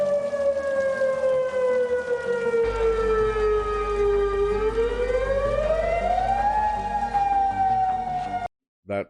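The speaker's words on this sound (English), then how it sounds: "that siren is freaking me the hell out." A loud civil defense siren wails on and on, its steady tone sliding slowly down and then back up, with a low rumble underneath before it cuts off abruptly.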